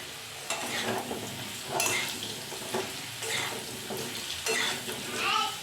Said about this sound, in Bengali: গোটা জিরে ফোড়ন দিলাম